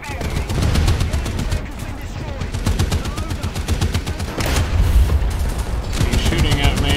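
Gunfire in War Thunder during a realistic battle on a frozen mountain pass: continuous, rapid machine-gun bursts rattle loudly throughout, mixed with heavier booms and impacts, close and relentless.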